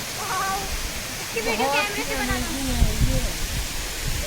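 Steady broadband roar of Birthi Falls in Munsyari, a constant rush of falling water that fills the background while several people talk and call out over it.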